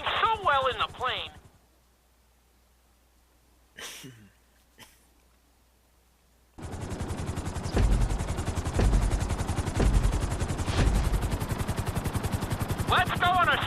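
Grand Theft Auto V helicopter during a flight-school course: a steady, dense rotor and engine drone fills the second half with rhythmic chopping pulses, after brief voice-like sounds and near silence at the start.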